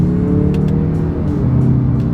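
A 2025 Mazda 3 hatchback engine pulls steadily under acceleration with a close, loud droning tone that shifts pitch slightly through paddle-shifted gear changes, with no talking.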